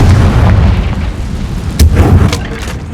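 A Confringo blasting spell in Hogwarts Legacy sets off a loud, dense booming burst with continuous low rumble and a few sharp cracks layered on top, all heard close up for about three seconds.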